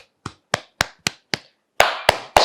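Hands clasped together tap slowly against the body during a yoga session, giving five evenly spaced dull thuds followed by three heavier, fuller strikes, close and clear against silence.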